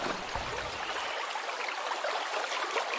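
Water runs steadily in an outdoor stream, a continuous broadband rushing and trickling close by with no talk, its low rumble dropping away after the first second while the bright splashing hiss carries on.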